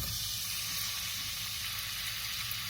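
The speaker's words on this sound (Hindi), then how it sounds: "अब हम देगची में कुकिंग ऑयल डाल लेंगे। प्याज हम इसमें डाल देंगे।" Onions in hot cooking oil in a pot give a steady, even sizzle throughout, with no talk over it.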